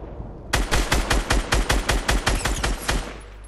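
Rapid hand cannon gunfire in the Fortnite battle royale video game, a loud burst of about a dozen evenly spaced shots over roughly three seconds, heard alone without talk.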